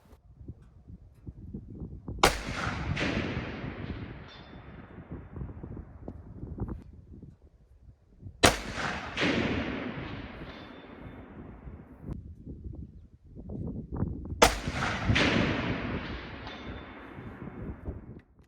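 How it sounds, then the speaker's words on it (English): Three loud rifle shots at a 500-yard target, each a sharp crack followed by a long rolling echo and tail, spaced several seconds apart outdoors with light wind. "Here you're going to see me taking some shots at 500 yards."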